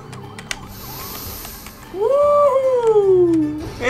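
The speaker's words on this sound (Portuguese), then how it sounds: "essa motoca tem uma sirene incrível" A police motorcycle siren in GTA 5: a rising and falling wail starts midway and sweeps loudly up and down, preceded by a quieter engine hum and a brief click.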